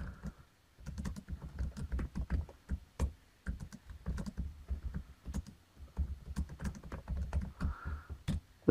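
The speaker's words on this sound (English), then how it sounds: "The keyboard is fantastic to type on." Irregular clicking of keys being typed on a Logitech Slim Combo iPad Pro keyboard, close and fairly quiet, with brief pauses between bursts of keystrokes.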